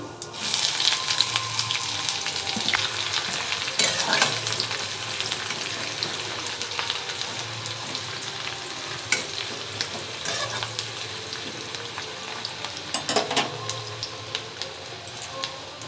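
Cumin, chopped onion, crushed garlic and ginger frying in oil for chicken samosa filling, a steady hissing sizzle with intermittent clattering stirs and scrapes at close range.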